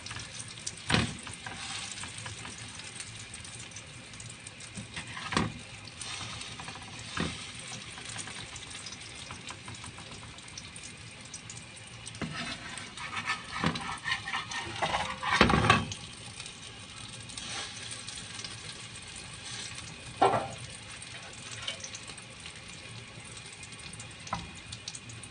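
A bread loaf frying in a pan on a gas stovetop while making hawawshi, a steady close sizzle and crackle throughout with occasional louder pops and stirring clatters, no talking.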